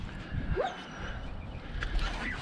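A dog gives a couple of short, soft barks and yips, one near the start and one near the end, against quiet room noise.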